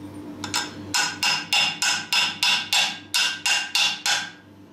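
A hammer strikes a steel part repeatedly to drive it into a tight fit, about a dozen loud, evenly spaced metallic blows in a steady rhythm, close and alone.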